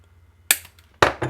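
A zip tie around Romex cable is snipped off with a cutting tool, producing two sharp close-up clicks about half a second apart, each followed by a brief faint rattle, over a quiet background.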